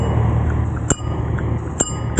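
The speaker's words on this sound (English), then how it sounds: "oh, that's the bell, by the way." Two crisp rings from the bell of a Beam e-scooter, about a second apart, sound close and clear over a steady rumble of riding outdoors at Stulang Laut, Johor Bahru.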